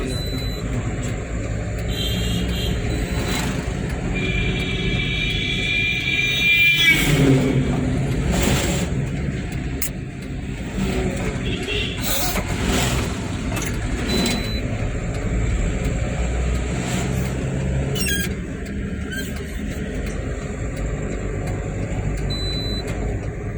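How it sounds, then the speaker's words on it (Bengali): Road traffic on a busy street, vehicles passing one after another in a continuous rumble with occasional horn-like tones and whooshes, heard close by. "পরপর গাড়ি আইতেই আছে। গাড়ির চাপ আছে"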